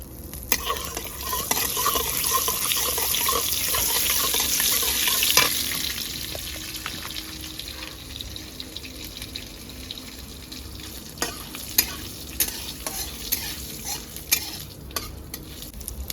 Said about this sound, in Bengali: শুকনো লঙ্কা জিরেটা আমার ভাজা হয়ে গেছে